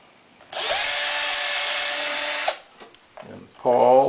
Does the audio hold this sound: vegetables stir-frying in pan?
no